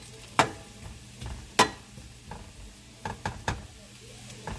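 Potatoes frying in a pan are flipped for Southern smothered potatoes, with a quiet continuous sizzle beneath a few sharp scraping clacks of a utensil against the pan.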